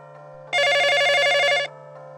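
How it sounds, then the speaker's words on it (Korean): A telephone rings in one bright, steady burst lasting about a second, with a call from mom coming in. It sounds alone over a faint, constant low hum. "그때 엄마한테 전화가 왔어요."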